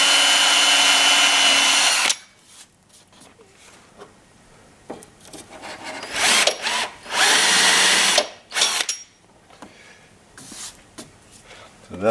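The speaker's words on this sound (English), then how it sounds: "we're going to use a different tool. It's like a drill cone," A power drill with a cone bit cuts through the bonnet of a Honda Civic FN to fit a vent, whining loudly in several separate bursts with quieter handling noise between them.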